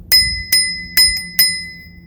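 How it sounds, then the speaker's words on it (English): A bell on a Jetson Bolt electric bike is rung four times in an even rhythm. Each strike gives a bright, close metallic ding that rings on and fades before the next. "And then this is the bell."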